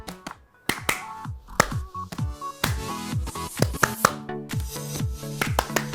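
Children at an online Sunday school session follow a counted clapping rhythm game, producing sharp, close claps in short grouped bursts with brief pauses between patterns.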